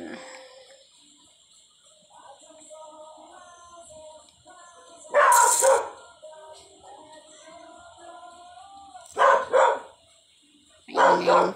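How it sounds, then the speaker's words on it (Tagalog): Dog barking in short loud bursts, three separate outbursts, standing out over quiet background chatter and faint bird or rooster-like calls. "Maingay yung tahol ng aso namin."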